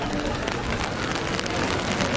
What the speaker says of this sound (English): It's no fun in the rain.